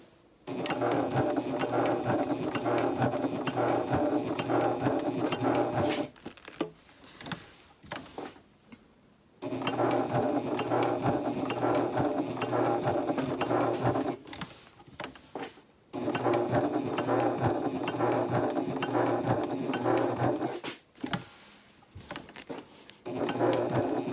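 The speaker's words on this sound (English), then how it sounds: "now I'm going to sew very slowly around this curved edge with 1/8 of an inch seam allowance." A sewing machine stitches slowly around the curved edge of a tote bag, whirring steadily in three long runs separated by short pauses filled with small handling clicks.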